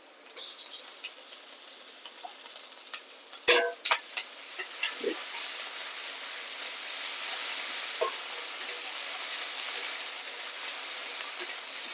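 Chili, ginger and garlic paste fries with browned onions in a pan: a sharp clatter as it goes in, then a soft sizzling hiss that builds and holds, dotted with small ticks.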